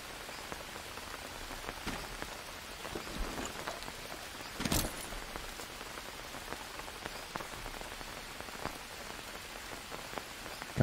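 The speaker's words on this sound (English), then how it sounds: "That rain sound is very pleasing to my ears." Rain falls steadily in the survival video game Green Hell, a dense, even hiss of drops pattering on a surface like a roof, continuous and fairly close, with one brief sharper spatter partway through and no voices.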